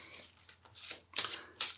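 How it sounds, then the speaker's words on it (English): A small deck of cards is shuffled at a guitar practice session, giving a few quick riffling bursts close to the mic, the last two sharper and louder. "So these are my key cards. I'll give them a shuffle."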